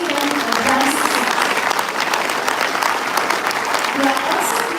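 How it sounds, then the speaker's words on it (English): Loud, sustained clapping from a large audience at an HR conclave at IIM Amritsar, dense and continuous throughout with a faint cheer or two mixed in. "A huge round of applause for the Industry Interaction Cell for making this event a grand success."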